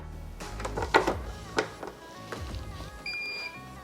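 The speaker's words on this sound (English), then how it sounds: "Once you guys do plug it in, you guys can hear that beep." A short, high electronic beep from an AIPER Seagull Plus charger rings out near the end as the cable is plugged in, following some handling clicks and rustling.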